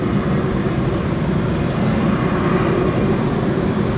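German Airways airliner departing London City Airport, a steady, loud broadband jet roar that holds evenly throughout with no talk over it.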